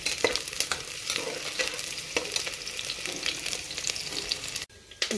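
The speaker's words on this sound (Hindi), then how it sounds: "हमने अनियंस को, एक प्याज को लाल करने के लिए तेल में डाल दिया है" Sliced onions frying in hot oil for a mutton curry, a dense, close crackling sizzle with occasional stirring scrapes that stops abruptly near the end, with no talk.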